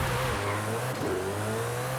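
A Koenigsegg Jesko launches off the line in a Forza Horizon 5 drag race, its engine a steady, loud, droning roar that holds without pause for about two seconds, with no talk over it.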